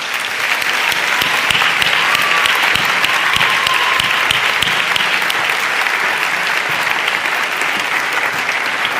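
A large audience applauds a singer at a schools' tribute concert in his honour, with loud, dense clapping that stays steady for about nine seconds and carries no speech.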